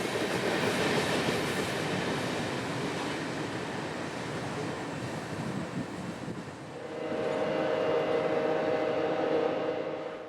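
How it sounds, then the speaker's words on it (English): A Norfolk Southern intermodal freight train, NS 289 running from New Jersey to Rossville, rolls past trackside with a steady, loud rumble and wheel noise, a tonal squeal or hum rising in the later seconds. "This is NS Train 289, a New Jersey to Rossville intermodal train"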